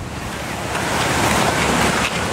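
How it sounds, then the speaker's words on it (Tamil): Strong seasonal wind blowing through a mango orchard, a loud continuous roar of gusts buffeting the microphone and swelling midway, with no voices. "காத்து காலம் பயங்கரமா அடிக்குது"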